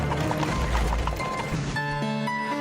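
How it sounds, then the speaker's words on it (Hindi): Cartoon horse galloping fast, rapid clip-clop hoofbeats under a busy music bed, then a shift to a sustained tonal musical passage near the end, moderately loud. "तभी तेज गति से दौड़ता हुआ एक घोड़ा आया और उससे बहुत आगे निकल गया"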